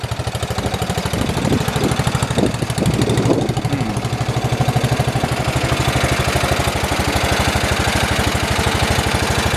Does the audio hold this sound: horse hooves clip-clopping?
no